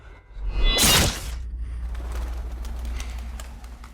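A flock of pigeons bursts into flight in a Game of Thrones scene, a loud rush of flapping wings that peaks early and fades into a low ambient rumble.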